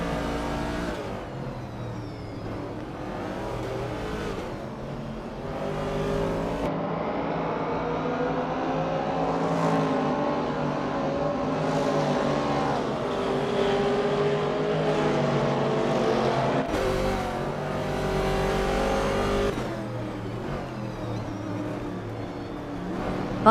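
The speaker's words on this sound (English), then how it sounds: "Bot Aerotech is driving a 1968 Chevrolet Camaro, a classic muscle car known for its powerful V8 engine and aggressive styling." Race car engines rev and whine in a racing video game, including a 1968 Chevrolet Camaro muscle car with a V8. A loud, continuous engine roar rises and falls in pitch through several gear changes, with sharp shifts and no talk.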